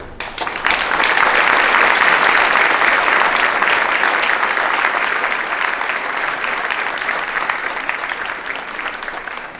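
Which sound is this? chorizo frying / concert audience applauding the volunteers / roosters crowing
concert audience applauding the volunteers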